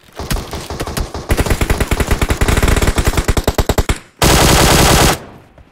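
Rapid automatic gunfire from PUBG Mobile on the Miramar and Sanhok maps, loud and close, with a long sustained burst of evenly spaced shots, a brief pause, then a dense final burst before cutting out.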